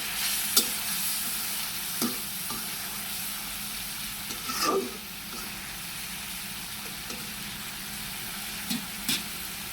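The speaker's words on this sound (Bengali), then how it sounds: "তো 2 মিনিট মাছটা কষানোর পর এখন আমি একটু নেড়ে দিব" Shrimp cooking with taro stolons sizzles softly in a pan, while a few scattered scrapes and clinks come from stirring.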